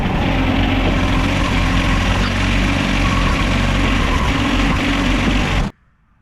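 A John Deere 1025R compact tractor engine runs at a steady idle during a hydraulic oil and filter change, a loud, constant drone close by that cuts off abruptly near the end.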